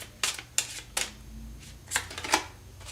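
A single tarot card drawn from a shuffled deck, heard as several sharp papery snaps and riffles spaced across a few seconds, close and fairly quiet with no talking.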